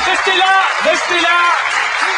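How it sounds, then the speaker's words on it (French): Applause from an audience at a French stage show, a short dense burst of clapping that stays steady and fairly loud for about two seconds. "On y va, on peut les applaudir."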